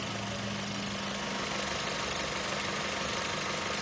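Mazda 5 engine idling with an abnormal noise from a faulty automatic belt tensioner, a steady low hum with a faint whirring rattle, continuous and close, no speech.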